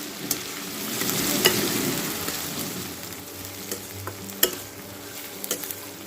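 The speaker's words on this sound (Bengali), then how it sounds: "এবার পেঁয়াজটা খুব ভালো করে ভেজে নিতে হবে পেঁয়াজটা একটু সময় নিয়েই ভাজতে হবে" Long-sliced onions frying slowly in a pan with whole spices for a Bengali chicken kasha, a continuous sizzle broken by sharp spatula scrapes and taps, close and without voices.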